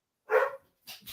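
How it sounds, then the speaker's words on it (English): A pet dog barks at home, one clear bark followed by a shorter second bark, fairly close and alone with no talk. "I don't know if you heard my dogs there in the background."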